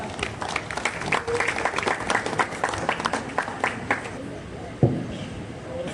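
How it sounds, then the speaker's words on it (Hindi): Audience at a Republic Day celebration at a customs air cargo complex claps to welcome performers, with many distinct hand claps in steady applause that fades near the end, ending with a brief thump. "तो आइए तालियों की गूंज के साथ स्वागत करते हैं इनका।"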